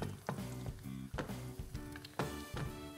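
An egg fries in a pan, cooking on one side, with a steady close sizzle broken by several short bursts of crackling and stirring sounds.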